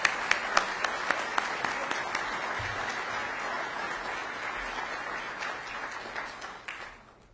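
A press-conference crowd applauds the newly named police chief in Columbia, Missouri, a few sharp individual claps at the start swelling into steady clapping that gradually fades out near the end.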